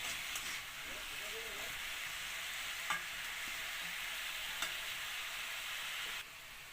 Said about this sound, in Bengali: তো কচুটা খুব ভালোভাবে ভাজতে হবে